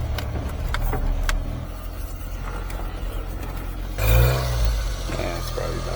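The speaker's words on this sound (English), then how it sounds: "Mini truck still runs good." A mini truck engine runs steadily at close range with a low, even hum, rising briefly in a short louder surge partway through.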